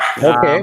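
A single short dog bark or yelp sounds close and loud during a conversation, overlapping with a brief spoken word.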